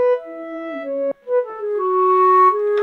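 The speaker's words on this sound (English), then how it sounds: "and the clarinet is like," A sampled clarinet plays a short melody of several held notes, smooth and woody with a brief break midway, close and moderately loud with no talk over it, in a calm, delicate piece of music.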